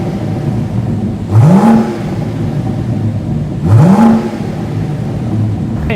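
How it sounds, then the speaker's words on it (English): A BMW M760Li with a big engine revs twice from idle, each blip a loud, close, rising roar that drops back to a steady idle between them. "this is still a sort of M car with a nice big engine, and it sounds decent"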